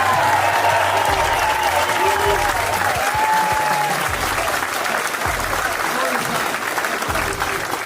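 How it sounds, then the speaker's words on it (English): Sustained audience applause at a political event, steady and full throughout with brief voices and murmurs mixed into the clapping crowd. "give this young guy a round of"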